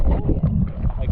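Small boat riding choppy, wavy sea water off the Jurassic Coast, with a continuous low rumble of hull, water and wind buffeting the microphone, close and fairly loud throughout.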